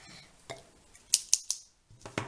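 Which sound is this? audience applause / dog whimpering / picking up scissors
picking up scissors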